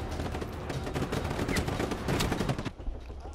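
Gunfire in the open-world action game Just Cause 3: dense, rapid bursts of shots crackle continuously for about three seconds before cutting off, loud and close, with no talk over them.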